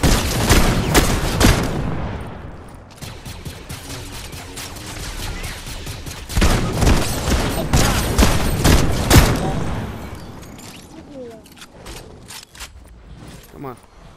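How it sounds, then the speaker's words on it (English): Fortnite gunfire in rapid bursts and volleys, loud and close, with sharp repeated shots and explosive booms in dense clusters, pausing briefly before another heavy barrage and then tapering to scattered sounds. "Now there's people shooting at you, and you have no shield."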